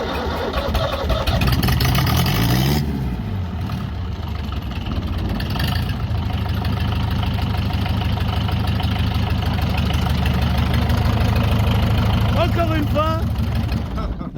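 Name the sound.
rebuilt diesel engine running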